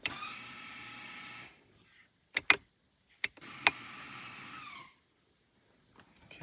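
A 2022 Hyundai Tucson's electric parking brake motor whirs as it engages and releases, two sustained mechanical whines about two seconds long each, separated by sharp clicks and taps in a quiet car interior.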